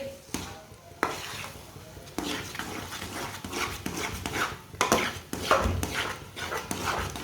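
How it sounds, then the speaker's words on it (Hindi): A spoon stirring two eggs into thickened semolina halwa in a pan, repeated scraping strokes with soft sizzling beneath, irregular and close, with no talk. "इसे ना अच्छी तरह मिक्स करना है, ऐसे चम्मच चलाते हुए पकाना आप"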